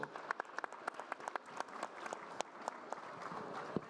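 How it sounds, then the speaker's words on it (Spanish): An audience at a panel on women's human rights gives warm applause to welcome a moderator, with individual claps standing out sharply against a thinner, steady patter of many hands in a room. "Démosles una cálida bienvenida con un fuerte aplauso."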